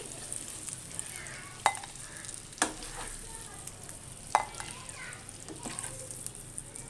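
Eggs frying lightly in a pan: a steady soft sizzle throughout, broken by a few sharp clicks and taps of a utensil against the pan, fairly close and moderately quiet, with no talking.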